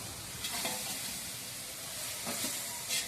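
Ginger garlic paste sizzles steadily in hot oil for a large batch of chicken biryani, a continuous close frying hiss with a few soft stirring scrapes and no voices.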